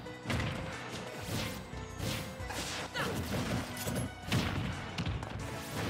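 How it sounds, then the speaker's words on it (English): Mega Man's forward smash attacks in Super Smash Bros. Ultimate land as several loud crashing impacts with whooshing swings, spaced roughly a second apart amid busy game effects. "M.M.Leo committing a lot to these F smashes."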